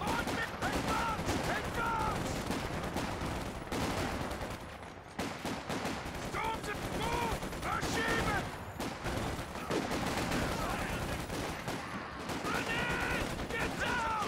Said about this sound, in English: Man, so many machine guns here.